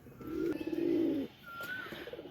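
Close domestic pigeons give a long, throaty, wavering coo, then after a brief pause a second quieter bout of cooing, with faint bird chirps in the background.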